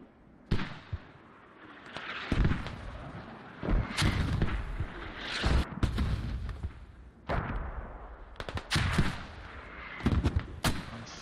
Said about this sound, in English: And Furibus also sending out his own mortars.